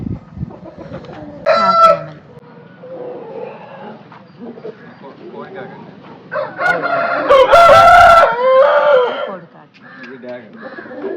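A rooster crows loudly several times nearby, its calls rising over scattered clucking from other fowl and people talking in the background.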